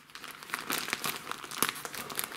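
A small plastic mail pouch, about 30 by 20 cm, crinkles and rustles steadily as it is handled up close, with sharp crackling bursts throughout and no voices.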